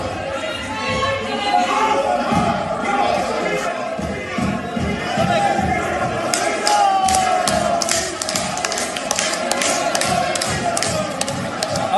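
Uproar fills a parliament chamber: many voices shout and chatter at once, with thumps, claps and scuffling as marshals try to remove a member, a loud, dense crowd din throughout.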